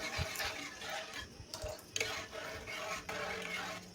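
Coconut pudding mixture stirred in a pot on the stove before it comes to a boil, giving a soft, continuous swishing with a few light knocks and clatters, close and fairly quiet, with no talking.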